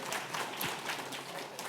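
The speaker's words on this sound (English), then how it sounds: "So give yourselves a round of applause for making this happen on a Friday afternoon." Scattered applause from a small audience at an afternoon entrepreneurship bootcamp welcome session, faint and fairly sparse, with a few sharper claps standing out across a brief stretch.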